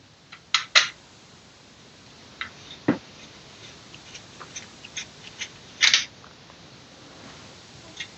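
Screws being worked out of an old, rusty NEMEF lever lock, giving sparse metallic clicks and ticks at close range, with a few sharper creaks and scrapes spread irregularly through the quiet.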